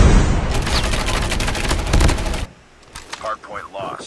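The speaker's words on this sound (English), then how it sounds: "I was shooting." Bursts of automatic gunfire in Call of Duty Mobile multiplayer, a dense rattling volley for a couple of seconds, then quieter sparse sounds with a game announcer voice.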